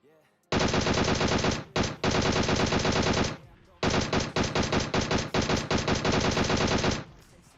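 Rapid automatic gunfire from enemy players in the PUBG Mobile battle royale game, loud and close, in two long sustained bursts with a brief gap, ending abruptly.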